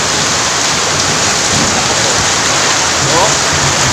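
Heavy sudden downpour with steady, dense broadband hiss of rain filling the whole stretch, loud and close, while someone talks over it intermittently.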